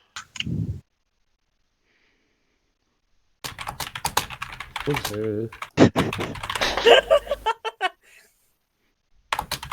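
Rapid clattery keystrokes on a mechanical computer keyboard come in quick bursts after a brief opening noise and a silent stretch, with voices chatting over the typing.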